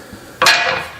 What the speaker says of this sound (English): I better put that hammer down